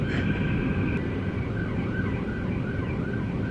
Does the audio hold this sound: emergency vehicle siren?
yes